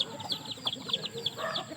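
Newly hatched chicks with their mother hen, a fighting-cock breed, give rapid, high, repeated peeps close by, mixed with a few soft low clucks, with no one talking.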